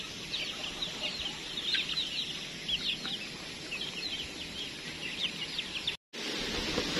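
Chicks and chickens on a farm keep up steady high peeping and soft clucking, many birds together at moderate distance, continuous with a brief cut near the end.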